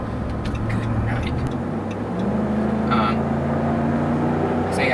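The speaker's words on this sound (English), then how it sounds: "passing power is plentiful in this truck. It just gets out of its own way very quickly" A 2012 Ram 1500 Lone Star Edition 4x4 pickup with a Hemi engine accelerates hard on the road, its loud engine drone rising steadily in pitch over about five seconds under continuous road noise.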